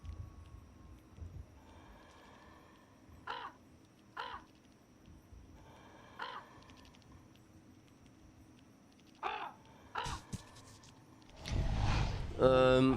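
A person's voice imitating crow caws: several short, separate harsh caw-like calls spread over a quiet background, followed by a louder, rougher burst near the end.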